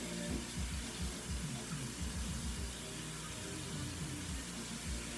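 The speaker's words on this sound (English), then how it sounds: "The water is running right now for it to be hot." Tap water running from a faucet into a sink while waiting for it to turn hot for a biology practical, a steady close hiss and splash with no talking.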